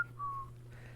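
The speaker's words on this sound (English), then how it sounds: "whistling" A person gives a single short, soft whistled note, brief and faint against a quiet background hum.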